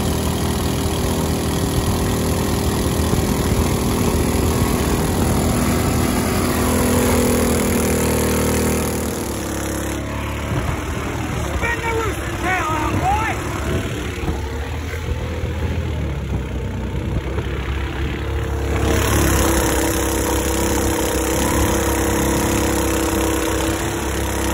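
A longtail mud motor on a boat runs steadily through a prop test with a 7.5-inch standard propeller, a loud continuous engine drone that eases briefly midway before returning to full strength.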